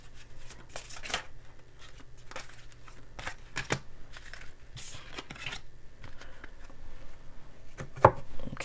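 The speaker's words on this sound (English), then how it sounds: "Let me go ahead and pull one of these romance cards here in case you're wondering anything about love." Romance tarot cards are shuffled by hand, giving a close, soft series of papery riffles and slaps in irregular bursts, with one sharper tap near the end and no talking.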